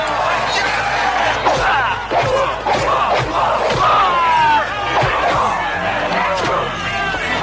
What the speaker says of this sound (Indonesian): semua penonton bersorak mendukungnya